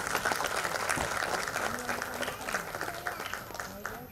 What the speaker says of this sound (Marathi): जरा जोरदार टाळ्या श्वेताजींसाठी